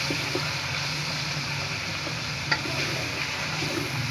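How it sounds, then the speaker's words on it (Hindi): Yogurt goes into chicken frying in a pan with ginger and garlic for a white yakhni pulao. A steady, moderate sizzle plays throughout with light stirring scrapes and one small clink, and nobody speaks. "तो हम इसमें दही डाल देंगे।"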